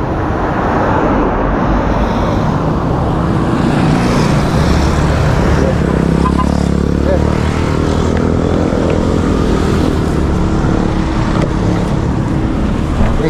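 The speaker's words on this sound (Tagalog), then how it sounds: "Maraming sasakyan." Steady road traffic with many vehicles passing on a street in Santa Ignacia, Tarlac, a continuous loud rumble of engines and tyres that swells near the middle as a vehicle goes by close.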